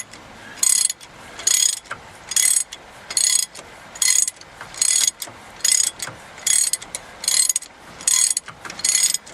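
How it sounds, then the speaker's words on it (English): A large hand ratchet removes bolts from a truck's four-wheel-drive unit, sounding as a steady run of about ten loud, close clicking bursts, each lasting roughly half a second and separated by short pauses. "if you got a big ratchet,"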